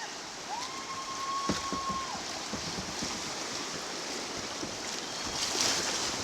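Rushing creek water on the rapids of Antietam Creek surrounds a boat, a steady loud churning wash with splashing surges throughout.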